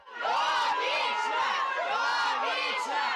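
Crowd shouting on the street outside a court building, gathered before a preliminary hearing in the Iryna Farion murder case after a bomb threat; dense, loud continuous massed voices with rising chants and whoops.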